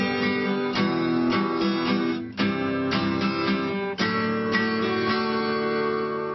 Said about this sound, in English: We're now moving to 3/4 time, that's waltz time, that's 3 beats to the bar